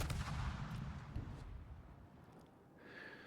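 Naval gunfire in the World of Warships video game as a Jaeger destroyer fights a Benson destroyer: a loud, booming low blast opens, then rolls off and fades into quieter battle ambience, with no voices.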